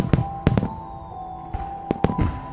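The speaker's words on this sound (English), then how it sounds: "All the city's fireworks were set off earlier" Fireworks from a Batman game go off in several sharp, loud bursts and pops spaced irregularly, with a faint whistling tone and no speech.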